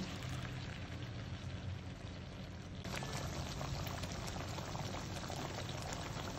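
A ground paste of fried onion and yogurt going into a korma pot, heard as a loud, continuous pour that shifts into bubbling, hissing cooking with no talk.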